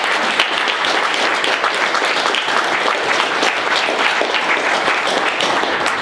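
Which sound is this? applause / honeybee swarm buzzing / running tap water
applause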